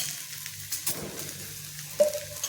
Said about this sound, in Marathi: आता दोन्ही साईडने मी भाजून घेते तेल लावायचं